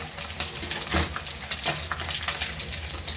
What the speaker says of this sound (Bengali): এখন আমি বাকি মাছগুলো ভেজে নিচ্ছি